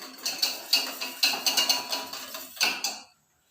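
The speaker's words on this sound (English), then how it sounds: "stir in the sugar until it's dissolved, then slowly let it boil" Sugar being stirred into liquid in a pot for a vanilla custard, a utensil scraping and clinking against the pot in a steady, fairly quick rhythm of close strokes, alone and without talk, before stopping.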